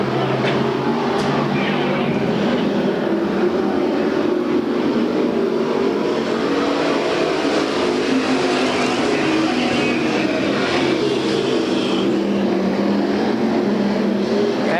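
Race cars roar around an oval track during a Budweiser Racing Series points race at Bakersfield, California, forming a constant loud engine drone with a commentator talking over it.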